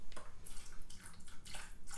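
Chicken stock splashes from a pour into an Instant Pot, a quiet, uneven run of liquid gurgles and spatters with no talking over it.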